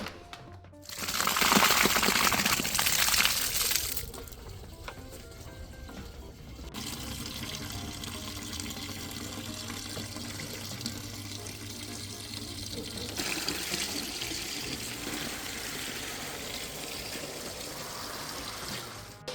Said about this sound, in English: we actually use water, and the bladder fills up, and it presses all the juice out